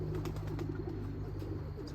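A bird coos on the ground, soft low calls sitting just above a steady background hum outdoors.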